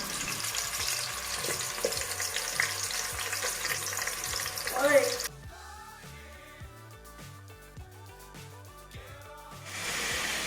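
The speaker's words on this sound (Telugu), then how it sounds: "చేసుకున్నవి ఆయిల్లో వేయాలి. చప్పటి చప్పటి సౌండ్ వస్తుంది." Half a kilo of chicken pieces fry in hot oil with a loud, dense, steady sizzle that drops off midway, leaving quieter crackling under background music.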